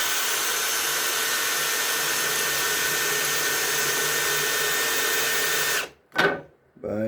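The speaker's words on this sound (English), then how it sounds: "we're going to see how it goes through the 1/8 inch steel" Flex FX1151 cordless drill driver spinning a cobalt bit into 1/8 inch steel, a steady whining motor hum that runs evenly then cuts off abruptly near the end, followed by a few brief clattering sounds.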